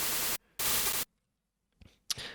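A synthesized white-noise burst shaped with slight frequency modulation, a psytrance snare patch built in Sytrus, plays as two loud, sharp broadband hits, then a pause and a few fainter, grainier fragments.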